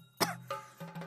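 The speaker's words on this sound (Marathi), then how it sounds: "सर्दी खोकला" A woman with a cold and dust allergy gives a few short throaty coughs, quiet and close, in an indoor domestic scene.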